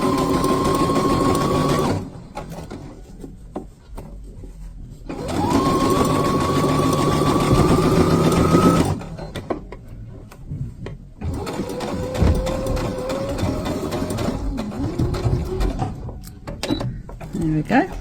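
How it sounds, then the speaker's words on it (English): A sewing machine stitches through the layers of a shirt collar in long steady runs broken by short pauses, loud and close, with the pitch of the motor shifting between runs. "you're sewing through all the layers again."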